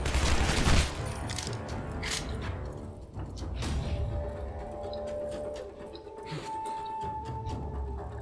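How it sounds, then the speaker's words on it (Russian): Rapid gunfire bursts and heavy thuds from the first-person shooter Shadow Warrior, loud and continuous with repeated shots and booms. "Из этой пушки очень легко убивать."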